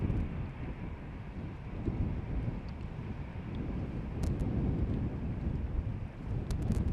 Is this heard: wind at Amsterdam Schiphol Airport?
yes